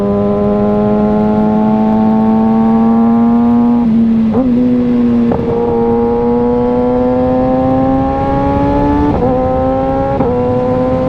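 A 2022 Kawasaki Ninja ZX6R with a warmed-up exhaust drones loud and close at highway speed, its steady engine note dipping briefly at several quick-shifter gear changes.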